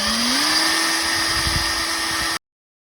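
A power drill with a paddle attachment stirs a pot of paint for a narrowboat at high speed, a loud close steady whine that rises in pitch as it spins up, then stops abruptly.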